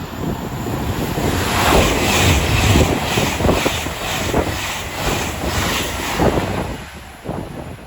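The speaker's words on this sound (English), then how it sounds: "Soon to pass through now will be a Avanti West Coast service going from Manchester Midday to London Euston." An Avanti West Coast service from Manchester to London Euston rushes through Watford Junction on the West Coast Main Line, a loud close roar with rhythmic wheel clatter pulsing across the passage before fading near the end.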